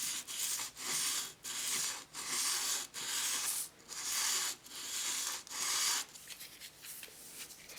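Hand sanding with sandpaper during restoration of an E. C. Stearns & Co. No 13 hand plane, steady rhythmic back-and-forth scrubbing strokes, about eight long passes separated by brief gaps, close and clear with no talking.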